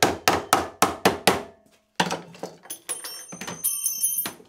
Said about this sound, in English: these two tabs here need to be bent over so that I'll be able to screw this onto the case